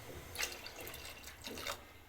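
Water is poured into a cooking pot while bottle gourd kootu is being made. The splashing comes in two faint, short bursts over quiet kitchen background.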